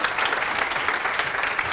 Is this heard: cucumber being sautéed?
no